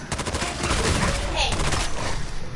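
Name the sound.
gunfire from the video game Fallout 4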